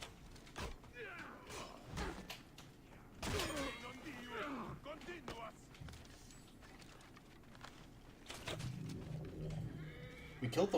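A horse whinnies amid Assassin's Creed Origins game sound effects and scattered impacts, with voices talking intermittently over the busy mix.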